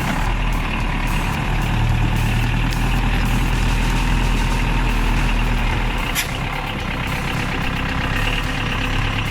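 A Unimog truck idles with a steady, loud diesel rumble that holds without pause, with faint higher mechanical whine and a brief click partway through.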